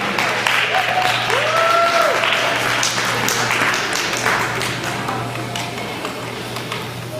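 An audience at a church youth rally applauds in a dense, sustained round of clapping that fades gradually, with some voices mixed in over a steady low hum.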